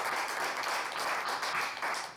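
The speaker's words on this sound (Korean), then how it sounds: "박수 한번 합시다" Congregation at a Korean church Sunday worship service clapping together in a sanctuary, a moderately quiet but steady wash of hands that fades slightly at the end.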